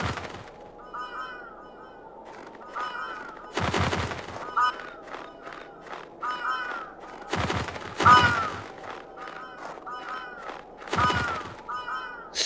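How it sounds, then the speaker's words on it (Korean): Crows caw repeatedly in the horror game Yomawari 3, harsh bursts spaced a few seconds apart over a quiet, eerie ambient bed. "아, 까마귀."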